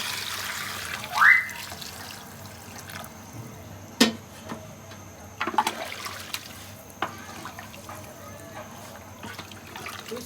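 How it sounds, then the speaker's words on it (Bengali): Water poured into a pot of morog polao gives a short gurgling pour near the start, followed by a sharp clatter and a few light splashy knocks, with faint sizzling underneath. "এখন আমি পানি দিয়ে দিয়েছি"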